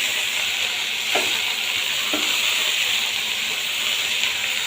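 Spice tempering (phoron) sizzling in hot oil for Bengali greens, a loud, steady frying hiss with a couple of faint stirring scrapes.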